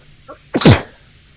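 A single sharp human sneeze, close and loud, with a brief faint intake just before it and quiet room tone around it.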